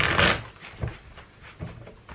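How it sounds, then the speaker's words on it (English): A deck of tarot cards being shuffled by hand, a loud riffling burst at the start followed by a few softer, irregular card slaps and flicks at close range, with no talking. "need to shuffle a little bit more"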